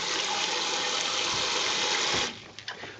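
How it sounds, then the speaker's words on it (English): Cold tap water runs in a steady close gush over lentils being washed in a kitchen, then the flow cuts off, leaving soft splashing and handling noises. "I'm going to use some cold water now."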